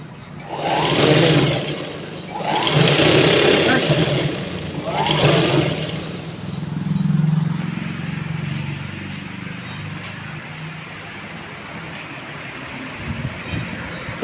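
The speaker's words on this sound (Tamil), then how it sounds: "தையல் மிஷின் அது" A sewing machine running off a mini inverter in a home DC solar setup whirs in three short bursts of rattling, motor-driven clatter, followed by a lower hum and quieter background noise.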